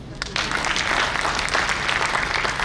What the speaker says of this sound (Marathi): यासाठी तरी टाळ्या वाजवा